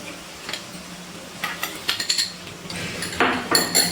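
Chicken darbari being stirred and mixed in a pan over a low gas flame, with a spoon scraping and clinking against the metal in irregular bursts that grow busier and louder toward the end, close by with no talk.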